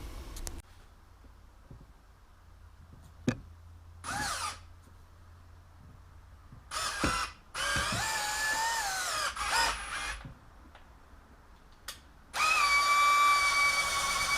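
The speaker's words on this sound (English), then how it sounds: "So what I'll do is I'll drill this out" A power drill bores out a bolt hole on a two-stroke jetski in short, separate high whining bursts with quiet gaps between them, ending in a longer steady run.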